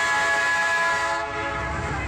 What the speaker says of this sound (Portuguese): Lá vem o trem